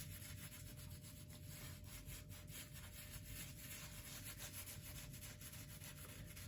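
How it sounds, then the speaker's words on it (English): A bristle brush scrubs glaze across textured Anaglypta wallpaper in steady back-and-forth rasping strokes, faint and close, with no voices. "You can hear the tooth as these little bristles get into all the little textures."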